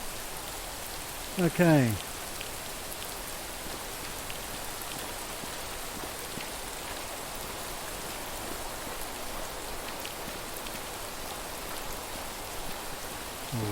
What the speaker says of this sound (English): We'll get back inside out of the rain.